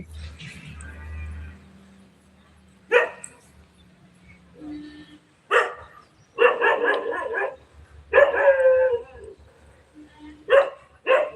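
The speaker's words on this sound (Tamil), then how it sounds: "நாயும் குலைக்குது மாடும் கத்துது" Dog barking in repeated loud bursts, with pauses between volleys, near the microphone; a low hum underneath and a cow calling in the same setting.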